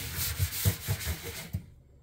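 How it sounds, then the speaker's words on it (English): Scrubbing an oven interior with a citrus degreaser and a Dobie-style scrubbing pad: several close, rhythmic rubbing strokes over about a second and a half, then the sound stops. "you can come in with a Dovey and just do some more scrubbing"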